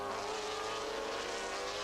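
A Ferrari F40 race car competing in a 1995 BPR endurance GT race at Jarama, its engine giving a steady, sustained high-pitched drone, held at moderate level throughout with no pause or gap.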